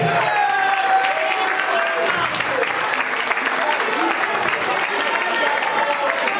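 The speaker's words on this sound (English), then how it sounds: "give Kabiru Akobi a resounding round of applause for making this possible" A standing audience at a law class anniversary gathering gives sustained applause, a loud, dense wash of clapping throughout, with some voices and chatter mixed underneath.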